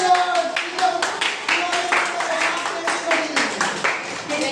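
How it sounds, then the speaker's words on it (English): Children in a school entrepreneurship workshop clap together in a close, lively burst of rhythmic handclaps that repeat steadily, with a voice speaking over them. "it's a big loud applause to you all"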